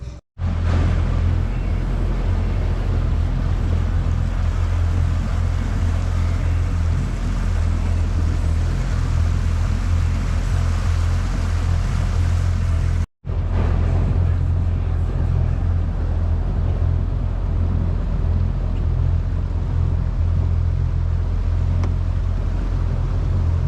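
A Freedom Boat Club motorboat cruises through the Southern Chain of Lakes in Winter Haven, its engine a steady loud drone with wind and water rush that continues throughout, broken by one brief cut near the middle.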